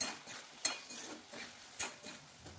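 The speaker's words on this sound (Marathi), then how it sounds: "आता यात चवीनुसार मीठ टाकूया आणि पुन्हा व्यवस्थित मिक्स करून घेऊ" Slices being stirred with salt in a pan of oil, giving soft scraping and clinking of a utensil against the pan at an uneven pace, fairly quiet with no talking.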